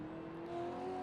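A race car lapping Bathurst on a wet track, its engine held back on cautious throttle: a steady, moderately loud droning hum with a slight rise partway through.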